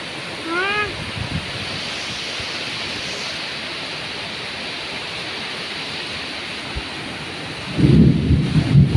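Heavy rain in Luzon pours down as a constant loud hiss. A deep roll of thunder swells in near the end, and a few faint high chirps come through early on.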